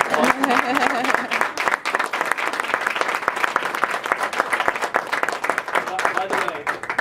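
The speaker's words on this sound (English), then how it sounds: "we give them a round of applause?" Office party guests at a chiropractic wellness clinic clap in a loud, close round of applause, crisp individual claps clearly distinct, with voices chattering underneath.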